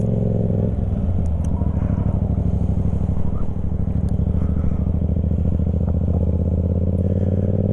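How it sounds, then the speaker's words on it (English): A motorcycle eases away from a stop as the clutch is let out smoothly with a little throttle during low-speed practice, its engine a steady, loud, close rumble with some clatter and no voices. "You let the clutch on out smooth, we're off."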